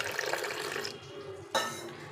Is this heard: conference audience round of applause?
no